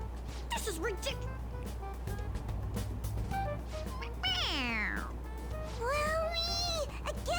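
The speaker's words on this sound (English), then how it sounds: "It meows when you press on its head." A squeezable toy cat in Persona 5 Royal gives two clear synthetic meows, one around the middle and one near the end, layered over game music and background chatter.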